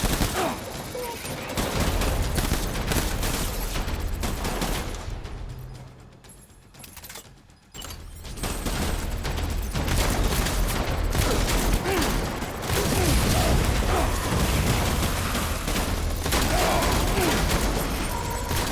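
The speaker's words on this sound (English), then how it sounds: "Now we're still getting shot" Gunfire in the video game Death Stranding, including shotgun blasts, comes as dense, loud bursts of shots over a noisy battle that drops briefly before the firing resumes.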